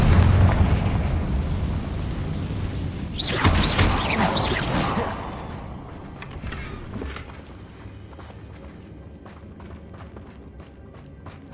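A Confringo blasting spell erupts in Hogwarts Legacy with a loud whooshing explosion that swells and rumbles for a couple of seconds, over a dense background of combat noise, then fades into quieter crackling.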